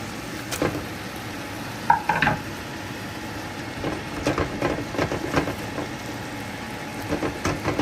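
Minced turkey being stirred into sliced tomato in a hot pan, a steady low sizzle under scattered scraping spoon strokes and soft clacks, with no one speaking.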